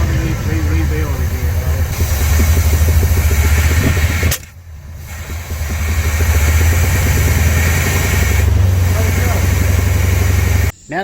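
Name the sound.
1969 Chevrolet Chevelle SS engine running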